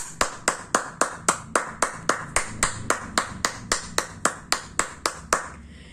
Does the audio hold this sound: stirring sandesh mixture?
no